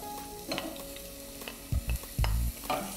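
Onion stirred in a saucepan with a little oil, giving a soft steady sizzle with a few louder scraping stirs of the utensil against the pan.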